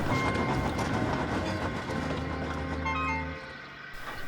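A storybook steam engine, Gordon, gathers speed and pulls away, a steady rolling rumble with rhythmic track clatter that thins out and fades toward the end.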